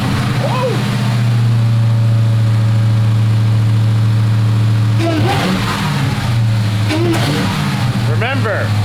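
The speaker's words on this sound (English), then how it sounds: "Remember, always full throttle your cold engine." A cold Dodge Charger engine, a former V6 rental car being built into a Hellcat Redeye, fires up loud and steady with a sustained drone, then revs hard at full throttle as people shout excitedly over it.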